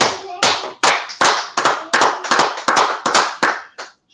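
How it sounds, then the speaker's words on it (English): A small group claps in unison at a gathering, about ten sharp, evenly spaced claps in a steady rhythm, close and loud, with a short gap before a final clap. "All right, clap it up."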